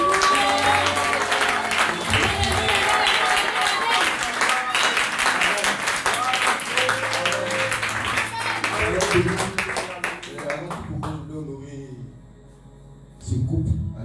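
Church congregation applauding and cheering in acclamation during a worship service, dense sustained clapping filling most of the stretch, then thinning out and fading before a brief renewed burst near the end.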